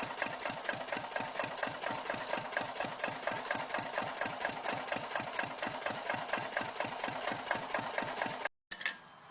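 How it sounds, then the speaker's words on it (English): A vintage Farymann Type D6 German diesel marine engine runs steadily with a fast, even knocking beat, loud and close, before cutting off abruptly near the end. "Today, the Farymann Type D6 is valued by collectors and enthusiasts as a fine example of vintage German diesel engineering."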